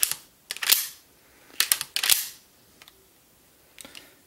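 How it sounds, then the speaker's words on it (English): Sharp metallic clicks from the half-cock safety of a Henry .22 lever-action rifle, several distinct close snaps in small clusters with quiet gaps between. "this is a safety, sort of a half cock position. Hear that click?"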